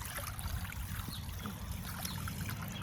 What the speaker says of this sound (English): the wind, keeps blowing the fountain water out of the bird bath